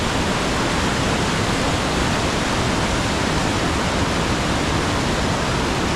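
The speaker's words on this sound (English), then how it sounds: "A little bit noisy from the water." River rushing beneath a bridge in Jotunheimen National Park, Norway, a loud constant broadband roar of turbulent water filling the scene with no pauses.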